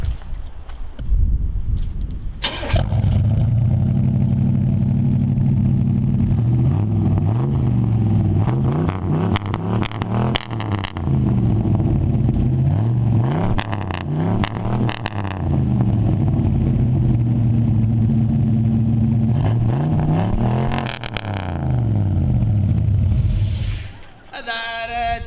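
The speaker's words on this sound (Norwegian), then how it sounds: "Da er det bare å fyre opp og høre på lyden." A dually truck's diesel engine with a new stainless exhaust idles and revs repeatedly for over twenty seconds, loud and close, with rising and falling pulls before cutting off.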